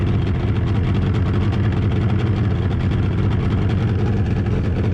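A bass boat's outboard engine runs loud and steady close by, a continuous low rumble without breaks or speech.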